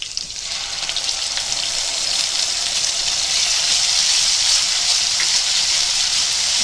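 Ginger and garlic hit hot oil in a pan and set off a loud, steady, bright sizzle that swells after the first moment and then holds, close and continuous without talk.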